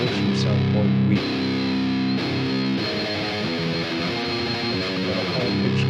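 Heavily distorted modern metal guitar tone run through a free distortion plugin, with chugging low riffs and sustained chords played continuously and loud for several seconds, no talking.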